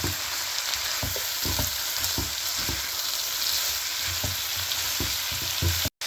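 Vegetable fried rice sizzles hard on a high flame, with steady frying hiss and rhythmic scraping and stirring strokes against the pan, close up and without talk.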